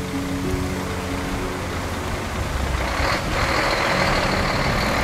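A truck reverses in Criccieth, North Wales. Its beeping alarm sounds at the start, then fades under broad rushing traffic noise that swells louder toward the end.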